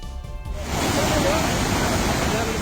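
Loud, dense rush of floodwater after heavy rain as it washes away part of a state highway, a roaring wall of noise that sets in after a brief voice.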